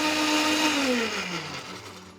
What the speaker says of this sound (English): Pop that in and then we blend it.